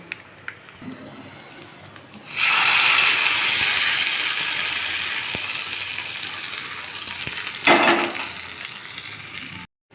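Tempering spices for an onion chutney hit hot oil with a sudden loud sizzle after a couple of quiet seconds, then fry steadily with a brief louder flare near the end before cutting off.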